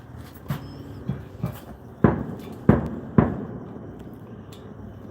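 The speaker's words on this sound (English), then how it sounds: "still fireworks." Fireworks explode in a series of sharp, distant booms, several fainter pops followed by three louder bangs spaced about half a second apart, each trailing off with a short echo.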